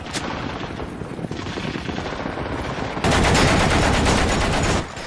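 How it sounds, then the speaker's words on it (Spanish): Machine guns fire in rapid, dense bursts, continuous rattling gunfire that grows louder and more intense midway before cutting off. "Para impedirle retroceder, la policía política emplaza sus ametralladoras."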